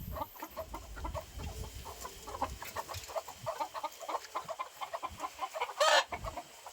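Hens cluck softly and repeatedly at close range inside a coop, with scattered rustling around them and one brief louder squawk near the end.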